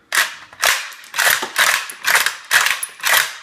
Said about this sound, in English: I would just put one round in it, but cycle, and then see if it cycles easy or if it gets stuck